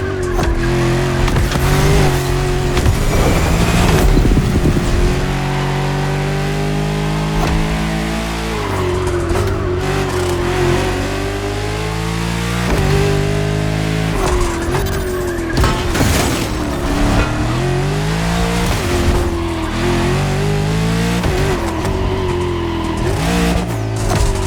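A French Accolone and Genty luxury car races hard in The Crew Motorfest, its engine revving loud and close through repeated gear shifts, with tire squeal and skids breaking through the continuous roar and no voices.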